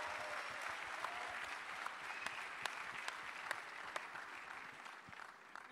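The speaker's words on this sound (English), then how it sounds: "je voudrais demander à toutes les personnes ici présentes de vous applaudir très," Audience applause at a young innovators awards event, a steady broadband wash of clapping that holds at even loudness for the whole stretch, with scattered sharper claps standing out and no voices over it.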